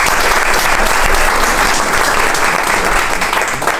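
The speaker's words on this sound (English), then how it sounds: "Big round of applause for Synth." Loud, dense applause from a conference audience welcoming a keynote speaker on stage, sustained even clapping from start to finish with no one talking.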